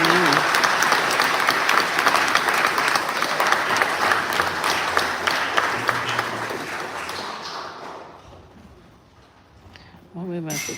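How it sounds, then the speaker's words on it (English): A church congregation gives a sustained round of applause for the audiovisual team, loud and steady for about seven seconds before fading; near the end a voice starts speaking. "Let's give them another round of applause"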